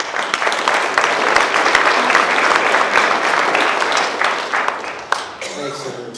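Audience at a public Redwood Fire Complex recovery meeting gives a sustained round of applause, steady dense clapping that tapers off before a voice begins speaking.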